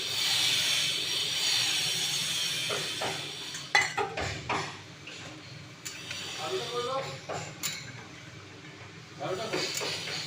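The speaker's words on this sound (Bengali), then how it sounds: "এখন গরম জলটা দিয়ে দিচ্ছি" Hot water poured into a pot of meat curry cooking on the stove brings a hissing, steamy rush with pot and utensil clatter, while a voice speaks in between.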